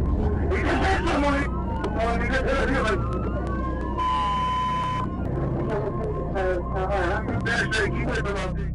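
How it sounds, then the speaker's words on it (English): A police car siren wails and yelps over road noise during a high-speed pursuit, with a voice speaking over it. "He immediately activated his lights and sirens"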